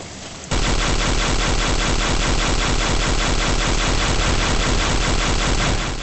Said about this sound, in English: This is one of the few times that I actually figured I could use the Tiberium auto rifle